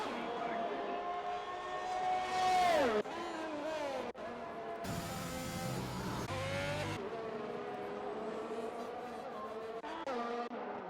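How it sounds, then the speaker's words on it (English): Race car in a racing video game spinning out, with engine tones sweeping up and down through the spin and a brief scrub of tyres, loud and continuous. "He has spun it."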